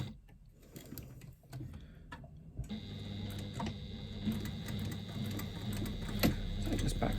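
A sewing machine back-stitches up the side of a bag, a steady mechanical whirr with a ticking rhythm. It starts after a few quiet, sparse seconds and then runs continuously at a moderate, even speed, close to the listener.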